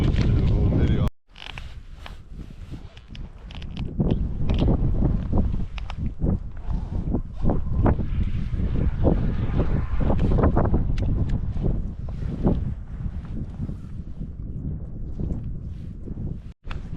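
Steady, heavy wind buffeting the microphone for the whole stretch while fishing for smelt, a loud rumbling roar with gusty surges and no clear talk.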